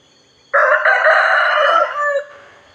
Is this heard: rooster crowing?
yes